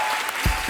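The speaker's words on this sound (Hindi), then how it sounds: "एक बार जोरदार ताली हो जाए" Audience applause on a Hindi television comedy show, a brief burst of clapping from a studio crowd, moderately loud and short.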